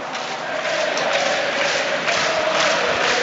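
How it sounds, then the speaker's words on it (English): Stadium crowd at a Premiership Rugby match between Northampton Saints and Saracens, a steady broad roar of cheering and noise filling the whole stretch, continuous and fairly loud without a break. "Crowd get going once again."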